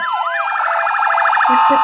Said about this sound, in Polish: Dobra, włączam syrenki i dołączam się.